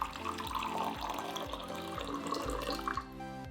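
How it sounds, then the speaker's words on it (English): Three-quarters of a cup of water pours into a cup for kohakuto jelly candy, a steady close splashing trickle that fills the short moment quietly. "We need to add 3/4 cup of water into a cup."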